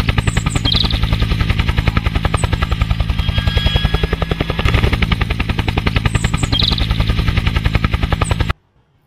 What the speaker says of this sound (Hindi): ये तो एक हेलीकॉप्टर है, कितना प्यारा सा एक हेलीकॉप्टर। इसको भी हम चलाएगा।